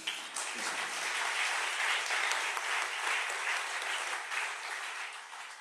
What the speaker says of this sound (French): Donc, je vous propose de l'applaudir spécialement.